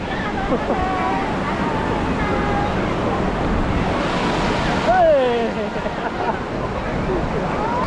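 Sea waves wash ashore at Qingdao beach in China, with steady wind blowing across the microphone; the surf is a broad continuous wash, loudest around the middle, with faint crowd chatter and a brief voice in the background.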